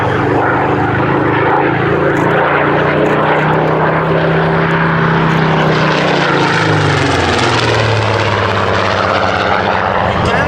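A loud Seafire naval fighter propeller aircraft roars close by, its engine drone shifting in pitch as it passes overhead.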